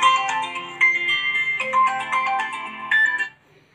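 A phone ringtone plays a bright, repeating electronic melody for about three seconds, then cuts off, heard alone with no voices over it, as a call is placed in a Malayalam school short film.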